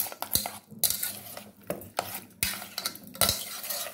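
Spoon scraping and clanking against a pot while veg biryani ingredients are mixed with ghee, irregular metallic knocks and rustling strokes up close, no talk.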